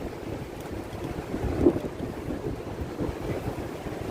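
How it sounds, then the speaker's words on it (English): Steady wind buffets the microphone in a low rumble by the East River waterfront in Lower Manhattan, with faint water and traffic-like background noise and a brief gust near the middle. "Windy by the waterway, heading toward the East River."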